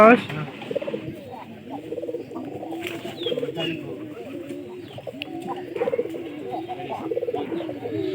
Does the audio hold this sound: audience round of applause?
no